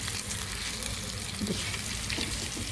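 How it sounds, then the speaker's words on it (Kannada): Mackerel fish sizzles in a pan over medium heat, a dense, steady crackle of frying oil close up with faint stirring and no talk. "ನೋಡಿ, ಈ ರೀತಿಯಾಗಿ ಅದು ಫ್ರೈ ಆಗ್ತಾಯಿದೆ ಮೀಡಿಯಮ್ ಹೀಟ್ ಮೇಲೆ."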